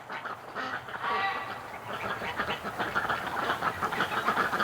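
Ducks quack over and over in a noisy chatter, steady and fairly close, with several birds calling at once and no talking.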